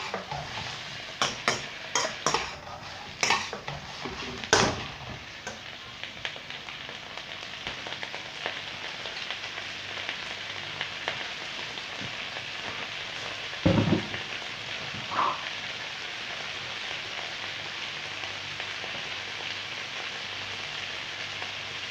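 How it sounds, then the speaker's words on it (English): Peppers, onions, pineapple and ginger fry in a pan for sweet and sour chicken, giving a steady close sizzle throughout with a few sharp stirring clatters early on and a couple more later. "Frying peppers and onions and the pineapple and the ginger, absolutely beautiful."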